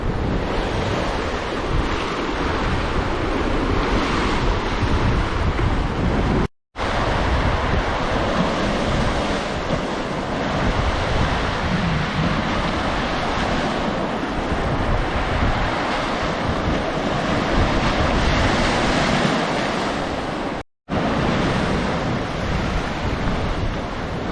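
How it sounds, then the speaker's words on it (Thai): Strong wind buffets the microphone while rough sea waves surge and break continuously, a loud steady roar with brief dropouts and no voices. "ลมมันแรงครับเลยทำให้เกิดคลื่นค่อนข้างจะรุนแรงนะ"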